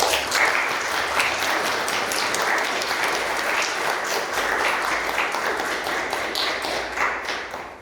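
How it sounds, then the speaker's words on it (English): Audience at a forum panel applauds, a dense, steady wash of clapping from many hands that carries on evenly for several seconds before easing slightly at the end. "I think they deserve our applause."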